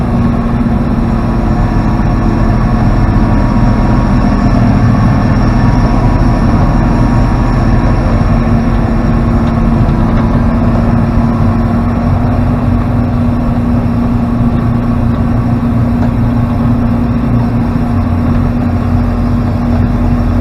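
A big snowblower throws snow into a truck, a loud, constant mechanical roar with a steady engine drone that holds unbroken and close for twenty seconds.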